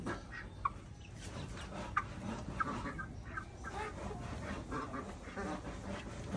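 Rhode Island Red chickens cluck softly at a middling distance, scattered brief calls over a faint background hum.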